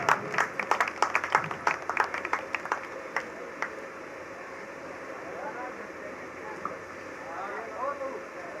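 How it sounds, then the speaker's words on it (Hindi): A handful of people clap sharply and unevenly for two devotees being honoured at a bhajan gathering at Katesara Dham; the clapping fades after about three seconds, leaving a quiet room murmur and low voices. "इनका भी मान और सम्मान जोरदार तालियों के साथ।"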